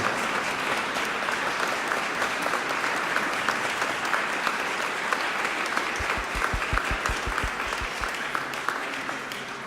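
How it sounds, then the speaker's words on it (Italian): Steady audience applause fills the hall after a winter chamber concert of accordion, violin and cello, continuing evenly at moderate volume and tapering slightly near the end, with a few low thumps toward the close. "penso che gli applausi non devono finire per loro."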